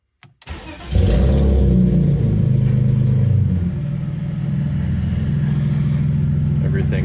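A BMW E46 3 Series engine cranks briefly and fires on the first try after a fuel pump replacement. It catches with a loud flare, then settles into a steady idle close by.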